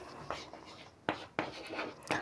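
Pen scratching on paper while writing by hand, several short strokes and taps in an irregular rhythm, close and clear, during a history lesson on the Indus Valley civilization.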